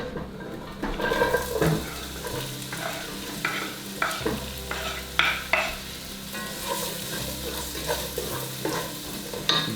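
Ground beef and chopped onion frying in fat in a pan on a stove for macarona bechamel, a steady close sizzle with repeated scraping and stirring clatter throughout.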